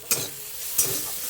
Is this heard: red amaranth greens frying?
yes